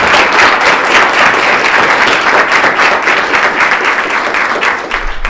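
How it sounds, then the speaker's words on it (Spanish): Loud, sustained applause from an audience at a public forum on water and the environment in Guadalajara, a thick, even wash of many hands clapping that eases slightly near the end. "pido para ella un fuerte aplauso"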